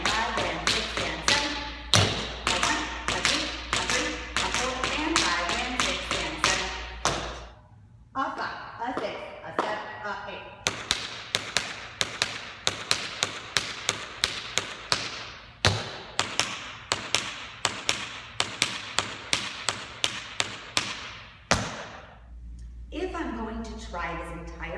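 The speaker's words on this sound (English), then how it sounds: "three not swinging shuffles and a stamp" Tap shoes strike a hard floor in quick runs of shuffles, first swung and then straight, each phrase ending in a heavier stamp, crisp and close with a low steady hum underneath.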